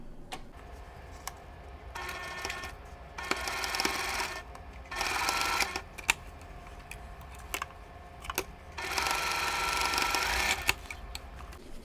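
A sewing machine stitches quilt block pieces for a Christmas ornament block in several short bursts, each a close buzzing whir separated by quiet pauses filled with faint ticks and handling clicks.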